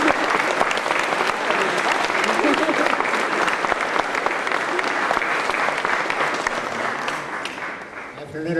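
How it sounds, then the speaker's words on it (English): Audience applause at an annual congressional awards ceremony, dense sustained clapping from a large crowd that continues loudly before tapering slightly at the end. "Would you greet with a wide round of applause John Henchett"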